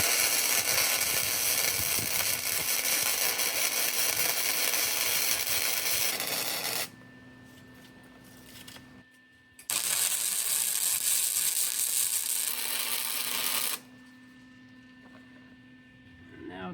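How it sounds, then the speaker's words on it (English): Welding on a Mustang GT body produces a loud, continuous crackling sizzle in two bursts with a brief pause between them, followed by a quieter hum. "So weld that up and we'll take a look at it."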